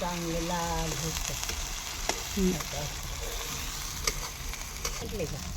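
Garlic and coconut masala paste sautéing in a pan over a wood-fired village stove, a steady close sizzle with occasional stirring scrapes and clinks; no one speaks.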